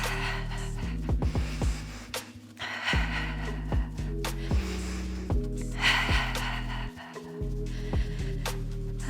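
Heavy, audible breathing after a bouncing exercise in a guided movement session: repeated sharp inhales and exhales with sniffs and gasps, close and fairly loud, in an uneven rhythm.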